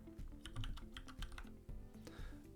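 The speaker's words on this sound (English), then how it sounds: "So type your new password you want for this admin account. And type it again." Keys tapped on a computer keyboard while a password is entered during setup of an Aruba 6000 network switch, a quick irregular run of close, fairly quiet clicks with no talking.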